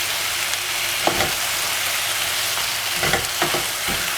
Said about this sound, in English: I've added my tomato, coriander and all the spices. So I have to fry.